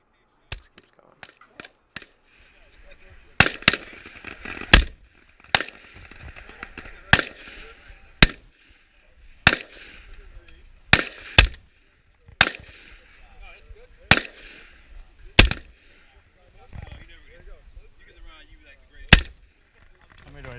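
Gunshots at a Marine Corps shooting event ring out as sharp, loud cracks, a dozen or so spaced irregularly a second or two apart, with quieter pops between and people talking faintly under them.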